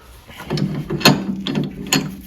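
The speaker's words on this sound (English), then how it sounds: "What we're going to do is put the stub axle in the lathe," Stub axle for a Motostandard 1010 being set up in a lathe: close, loud metallic clunks and ratcheting clicks as the part and chuck are handled, a few distinct knocks over about two seconds.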